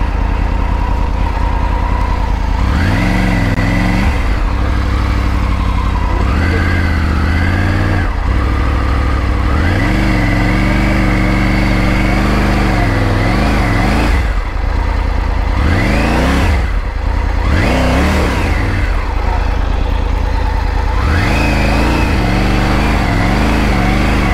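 A Triumph Tiger 900 Rally Pro motorcycle stuck off-road revs repeatedly, its engine surging up and dropping back in loud, close bursts over a continuous running growl.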